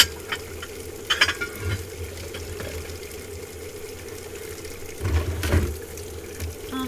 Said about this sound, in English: Almost done with the dishes